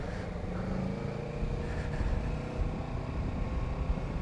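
Motorcycle riding on a road at night, a steady low engine drone with continuous road and wind rumble throughout, fairly loud and without speech.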